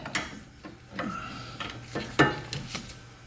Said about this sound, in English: I'm using my breaker bar just because they're usually on tight.